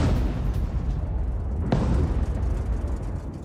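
Air strike explosions in residential areas of southern Lebanon come through as a dense, continuous rumbling roar, with one sharp crack-like burst in the middle of the sustained low boom.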